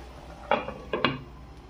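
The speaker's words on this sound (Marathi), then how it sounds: "आता आपण याला झाकण लावून ठेवून देऊ" A metal lid is set on a cooking pot while making dhaba-style mushroom masala, giving a few close, sharp clinks and clatters in quick succession before going quiet.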